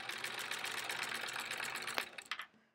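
A sewing machine fitted with a walking foot stitches through layered quilt blocks and sashing, a steady close mechanical whirring with rapid needle ticks that slows and stutters to a stop at the end.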